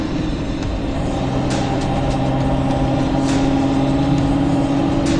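A 1967 Ford Mustang GT500E Supersnake restomod cruising at steady speed, its engine droning continuously with road and wind noise filling the cabin, a few faint clicks and rattles passing over the constant hum.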